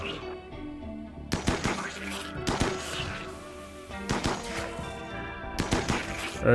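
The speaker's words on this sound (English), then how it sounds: "please come over here and shoot up this wall over here" Colonists in the RimWorld game shooting at a wall, sharp shots landing in several separate bursts with thudding impacts between quieter gaps.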